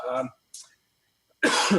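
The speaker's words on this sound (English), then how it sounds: "I still got this cough" A single sharp cough, short and close, after a brief bit of speech and followed by more talking.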